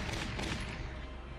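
A dense burst of rapid gunfire in the video game Valkyria Chronicles, shots blurring together into a loud, continuous crackle that tapers slightly toward the end.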